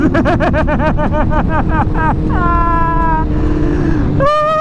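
A BMW M1000R motorcycle accelerates hard through the gears, its engine note climbing in rapid repeated sweeps with quick shifts between them, loud and close, ending in a fresh high-pitched rise.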